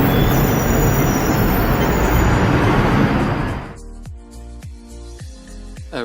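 A Hong Kong street tram runs past with a loud, dense rolling roar for several seconds, then drops to quieter rhythmic wheel clacks and rattles as it moves along the rails.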